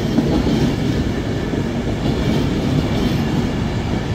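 Northern Class 150 diesel trains at Stockport station give a loud, continuous rumble and rolling wheel noise from close by, with no voices.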